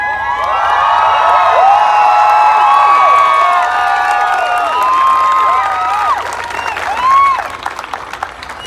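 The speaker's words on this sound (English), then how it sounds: "if we could have the loudest cheer today for black women" A protest crowd outside the Rhode Island State House roars in loud, sustained cheering and whooping for several seconds, rising and swelling before tapering off, with scattered shouts on top.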